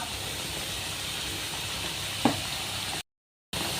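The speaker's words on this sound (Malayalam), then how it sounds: "ചെറിയ തിളയൊക്കെ വന്നിട്ടുണ്ട് ഇനി ഇതിനകത്തോട്ട് നമുക്ക് ഒരു ടേബിൾ സ്പൂൺ വിനാഗിരി ചേർത്ത് കൊടുക്കാം" Vinegar is added to lemon and vadukapuli white pickle simmering in a pan, giving a steady hissing sizzle with one brief splash. The sound cuts to silence for a moment, then resumes.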